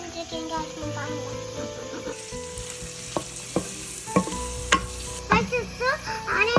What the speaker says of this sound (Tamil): ஃபர்ஸ்ட் ஆனியன் போட்டு வதக்கிடுவோம் गाइस